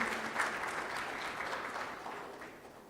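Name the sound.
audience applauding Mr. Patel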